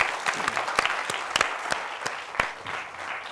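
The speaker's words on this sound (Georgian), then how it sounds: "აპლოდისმენტებით აბა დავამტკიცოთ" Studio audience applauding on a Georgian comedy game show, a dense, steady patter of many hands with a few sharper individual claps standing out, moderately loud and without speech.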